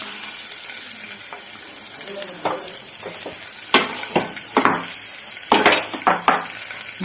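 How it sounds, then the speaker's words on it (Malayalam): Small sardines fry in hot oil in a home kitchen, giving a steady sizzle with sharper bursts of spattering and clatter in the second half, close and moderately loud, with no talk. "ഓരോന്ന് ഓരോന്ന് ഇങ്ങോട്ട് പെറുക്കി വെച്ച് കൊടുത്ത് നമുക്കിതിനെ അങ്ങ് വറുത്തെടുക്കാം"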